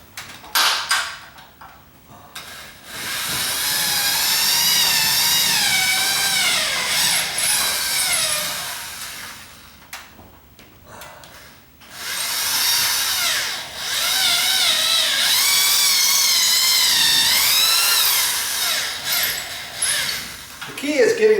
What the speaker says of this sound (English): Gonna pre-drill just like I did before.